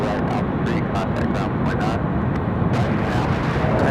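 A Republic Airways airliner departing Raleigh-Durham International, a loud continuous jet-engine roar with crackling rumble heard from a distance, and a commentator talking over it.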